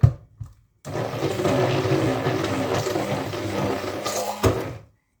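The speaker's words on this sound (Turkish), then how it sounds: "Topak kalmayacak şekilde iyice çırptık." A steady electric whirring, like a mixer beating pancake-thick batter for Malatya fış fış dessert until lump-free, runs for several seconds after a couple of short clicks, then stops abruptly.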